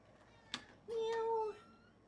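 A short sharp click, then a single drawn-out meow lasting about half a second, fairly close and clear against a quiet background.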